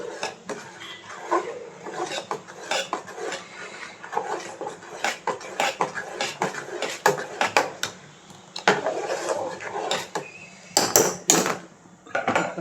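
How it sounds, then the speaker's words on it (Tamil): Urad dal porridge stirred continuously in a pot, repeated scraping and knocking of a spoon against the pot in an uneven rhythm, close and clear, with no voices. "இப்போ கைவிடாமல் கிண்டணும்."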